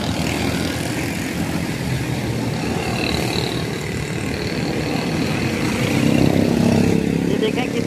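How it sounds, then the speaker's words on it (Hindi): Road traffic flows past steadily in Karachi, a dense, continuous roar of engines and tyres with a louder vehicle passing near the end. "ये देखें कितना स्पीड से ये ट्रैफिक जा रहा है।"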